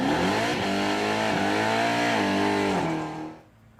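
A modern street Hemi Jeep roars hard off the line at a drag strip, its loud engine climbing through rising revs and gear changes before fading away near the end.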